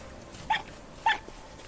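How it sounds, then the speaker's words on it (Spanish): A fox in the video game Rime gives two short, sharp barks about half a second apart, moderately distant over a quiet background, with no talking. "O algún zorro. Ah, sí, está el zorrito allá."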